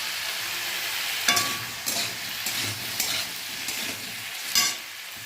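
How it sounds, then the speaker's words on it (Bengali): Vegetables fry in a pan with salt and turmeric under a constant soft sizzle, broken by several sharp spatula scrapes and stirs at irregular intervals, close up with no voices. "ভালো করে নুন হলুদটা সবজির সঙ্গে একটু মিশিয়ে দেবো।"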